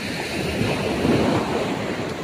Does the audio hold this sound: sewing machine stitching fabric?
no